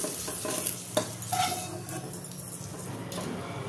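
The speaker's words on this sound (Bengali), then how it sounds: "আলুটা একটু লাল লাল করে ভাজবো" Potato pieces fry in oil in a pan, browning. The sizzle is soft and steady, with light stirring scrapes and occasional clinks of utensils against the pan.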